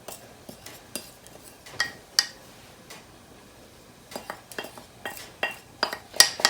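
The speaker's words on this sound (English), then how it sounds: "I'm going to go ahead and add those onions" A spoon clinks and scrapes against a pot as chopped onions go into seasoned pasta for a tuna casserole, giving scattered light metallic taps and clatters at close range with no talking.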